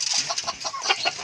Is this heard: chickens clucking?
yes